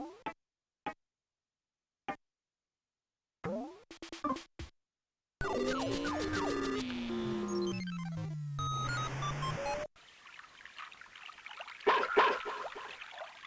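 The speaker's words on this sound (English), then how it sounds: "That's Boney barking." A dog named Boney barking in the video game Mother 3: short, sharp, synthetic yips spaced apart in silence, followed by a burst of game music and sound effects.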